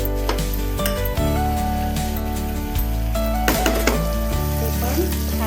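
Grated coconut sautés with ivy gourd (tondli) in a pan, giving a steady sizzle with spatula scrapes and clinks over a constant humming background tone.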